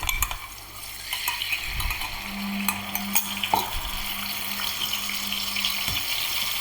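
A ground onion-and-chilli masala paste sautés for an egg roast, giving a continuous close sizzle with stirring scrapes and a few utensil clinks. A faint steady hum runs underneath.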